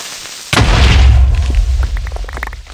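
A creeper blowing up in a Minecraft map, one sudden loud boom with a deep rumbling tail that fades over the next two seconds.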